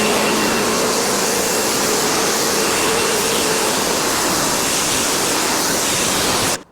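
A pressure washer sprays a Volvo XC60: a loud, steady, close-up hiss of water under pressure that runs without a break and then cuts off abruptly at the very end.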